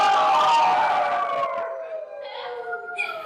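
Children's voices imitate a wolf in a classroom, one long howl that slides gradually downward and fades, with a few fainter, higher voices joining near the end.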